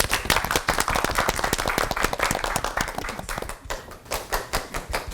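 Lively clapping from a studio audience on a Korean Christian talk show, the sharp hand claps dense and steady at first, then thinning into separate, slower claps near the end.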